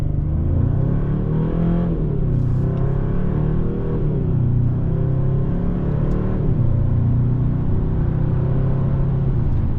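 A 2024 Hyundai Sonata N-Line accelerates steadily from inside the cabin with a loud, continuous engine drone. Its wet dual-clutch transmission makes two quick upshifts, each marked by a brief dip and rise in engine pitch.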